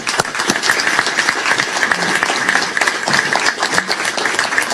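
Sustained audience applause at a Manhattan DA press conference, dense steady clapping from a room of attendees, loud and continuous throughout with no speech over it.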